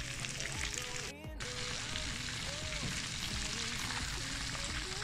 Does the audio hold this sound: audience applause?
no